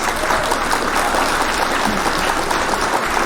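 Steady applause from an audience during a live news broadcast about Aurora, dense and continuous throughout with no clear breaks, at moderate loudness.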